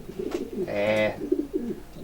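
A racing pigeon hen, a top bird from an auction loft, gives a short, soft throaty coo in the middle, with low murmurs before and after and faint background noise.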